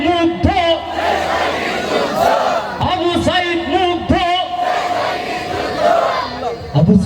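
A crowd roars Allahu Akbar in unison, answering a takbir call at a Bangladeshi Islamic rally, loud repeated collective shouts over a chanting lead voice.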